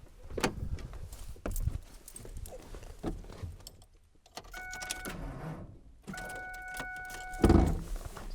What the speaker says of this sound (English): let's see if the truck will start without me having that plugged in